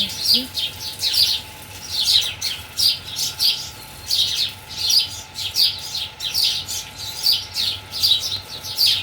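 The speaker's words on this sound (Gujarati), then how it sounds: "મસ્ત ચકલા પણ બોલે" Sparrows chirping outdoors among greenery, repeated bright chirps in quick bursts throughout, fairly close and loud over a low steady background hum.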